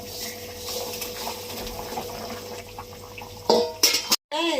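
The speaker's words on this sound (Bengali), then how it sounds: "ফুটে গেছে মাছগুলো দিয়ে দিচ্ছি" Fish dropped into a pot of boiling water, a continuous bubbling simmer with faint clinks, then a sudden louder splash and clatter near the end, close up with no talk.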